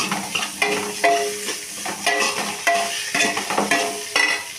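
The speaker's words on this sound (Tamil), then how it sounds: "உருளைக்கிழங்கு போட்டு நல்லா வதக்கி விட்டுக்கலாம்" Potatoes and onions are sautéed in a pan, with a continuous sizzle broken by regular scraping stirs about every half second, close and fairly loud, with no voices.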